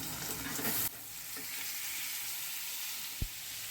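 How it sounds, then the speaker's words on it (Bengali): Hilsa fish pieces added to a pan of lightly fried potato and eggplant, a steady close sizzle with a brief louder burst early on and a single sharp knock near the end. "এবার এই মাছের টুকরোগুলো এখানে দিয়ে দিচ্ছি"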